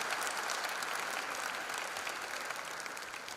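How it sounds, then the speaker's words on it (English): An audience at a freshers' induction program applauds loudly and steadily, with dense clapping throughout that stays strong and fades only slightly over a few seconds. "Please give them a big applause for their achievement."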